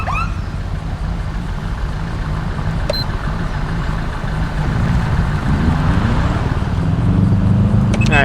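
A Mitsubishi car engine in GTA V drones steadily with a low, sustained hum that grows slightly louder and rises in pitch toward the end, with no talking.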